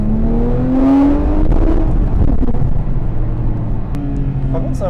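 A Porsche 911 GT3 RS 3.8 of the 997.2 generation revs hard on track, its pitch sweeping upward through the gears with loud, close engine howl and a French-speaking voice talking over it.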